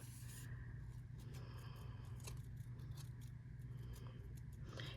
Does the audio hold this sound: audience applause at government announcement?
no